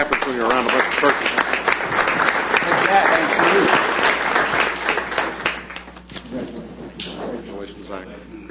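A room of people applauds at a county commissioners court meeting, loud dense clapping close by for several seconds before thinning out, with voices talking over it and a few scattered claps at the end.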